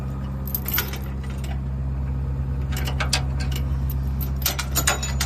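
Metal safety chains on a picnic trailer hitch rattle and jingle in short bursts as they are unhooked, close by and with no talk.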